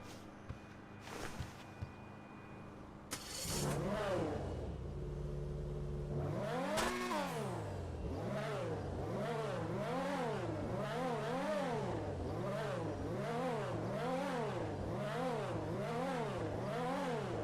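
Progen PR4 open-wheel race car in GTA Online starting up, then revving hard through repeated gear shifts with a loud, rising-and-falling engine whine that continues steadily near and alone.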